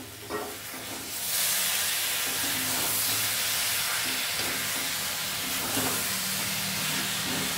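A prawn dish cooks in a pan in a home kitchen, and once the lid is lifted, a loud, steady steamy hiss and sizzle swells up and carries on without a break.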